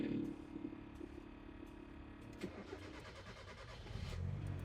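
A Mazda Miata fitted with Audi R8 coil packs cranks and fires up, then settles into a steady idle with a brief rev near the end, heard close in a quiet setting.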